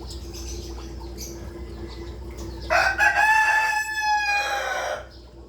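A rooster crows loudly and close by over a steady background hum, one long drawn-out call.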